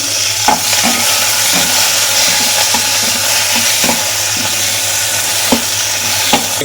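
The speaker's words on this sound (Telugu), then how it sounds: "పచ్చిమిర్చి అయితే వేసుకున్నాము కొంచెం ఆయిల్ జస్ట్ ఫ్రై చేసుకుందాం" Seven or eight green chillies fry in a little oil with a loud, close, constant sizzle and occasional soft taps of a spatula against the pan.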